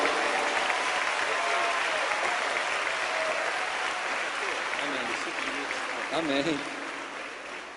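A church congregation claps loudly and steadily to welcome a pastor to the pulpit, the applause slowly fading toward the end as a voice briefly speaks over it.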